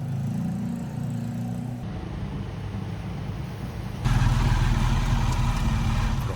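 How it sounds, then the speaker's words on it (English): Small, noisy tuk-tuk engine in El Nido, Palawan, droning steadily nearby with a low rumble that grows louder and rougher toward the end, with no voices over it. "we took a tiny but very noisy tuk-tuk to the TAO offices"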